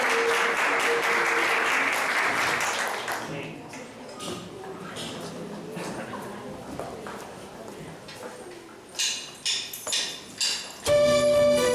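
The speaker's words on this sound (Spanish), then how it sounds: "Dale un fuerte aplauso al Señor." A church congregation at a Sunday service claps loudly in a thick burst for about three seconds, then the clapping drops away into quieter scattered sounds and a few sharp knocks.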